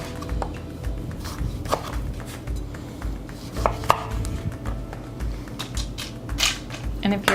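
A knife chops a length off a fresh rhubarb stick on a cutting board, with a few scattered close taps and clicks over a low background hum and no talking.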